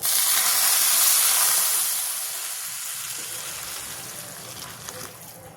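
Loud steamy hissing and splashing as boiling water pours into a pan of wheat dalia for kheer, fading gradually to a softer, steady sizzle.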